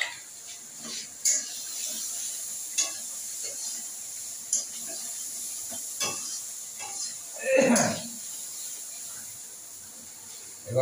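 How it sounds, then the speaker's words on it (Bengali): Radish, soybean and egg curry ingredients frying in a small amount of oil, giving a soft, steady hiss with occasional faint pops and scraping clicks, fairly quiet throughout. "সামান্য একটু ভেজে নিই।"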